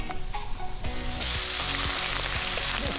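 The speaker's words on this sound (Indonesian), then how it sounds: "Setelah emak cuci bersih dan kasih bumbu, emak goreng ikannya sampai kering." Seasoned fish sizzles steadily as it fries in hot oil in a pan, a dense crackling hiss with occasional scrapes and stirring, close up and without speech.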